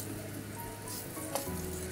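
Minced garlic sizzles in about a tablespoon and a half of hot oil in a wok, a steady close crackling hiss with no voices.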